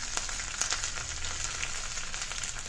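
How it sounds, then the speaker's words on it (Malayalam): Onions and cashews sauté in a pan, with curry leaves, for Kerala-style chicken stew. A steady, close sizzle of frying oil carries on without pause, with faint crackles throughout. "ഒന്നുകൂടെ വഴറ്റിയെടുക്കുവാണ്"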